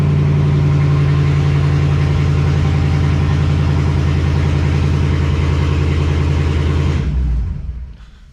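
A Hellcat swap engine in a car runs at a loud, steady idle for about seven seconds, a strong low rumble close by, then shuts off and fades quickly to near silence.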